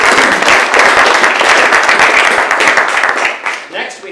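An audience at a transportation forum in Colorado applauds, a dense sustained wash of clapping from a crowd that holds steady for several seconds before tapering off.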